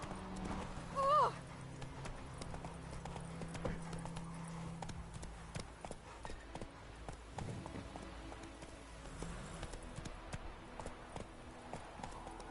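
Hooves of the horse Roach clip-clop in a video game, a steady trotting rhythm with a brief whinny near the start, fairly quiet under faint ambient game sound.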